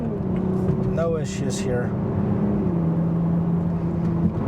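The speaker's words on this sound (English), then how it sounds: "you can hear the engine. Obviously, it is more of a performance vehicle" A 2023 Toyota Supra Premium 3.0 engine drones steadily at low pitch while the car merges and drives through traffic, running continuously beneath someone talking throughout.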